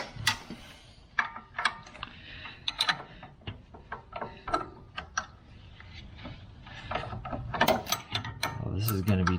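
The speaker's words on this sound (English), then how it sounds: "I can hardly get my normal wrench in there." A ratcheting wrench clicks in rapid bursts as it turns a nut during an OME lift kit install with castor correction bushings on a vehicle suspension. The clicking is close and loud, with short pauses and faint talk.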